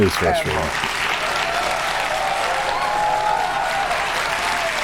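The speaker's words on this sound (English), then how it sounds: "Don't clap for that." A studio audience at a late-night comedy show breaks into loud, sustained applause and cheering right after a short bit of speech at the very start.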